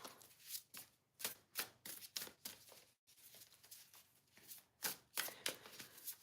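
Playing cards are shuffled and riffled in repeated quick bursts of crisp flutter, close and fairly quiet, with brief pauses between each round and no talk.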